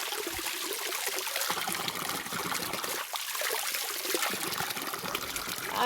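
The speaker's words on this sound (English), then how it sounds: "So that is the water coming." Cold water trickles from a natural spring on a hilltop farm in Guwahati, Assam, a steady close splashing and dribbling that runs on without pause and with no talk over it.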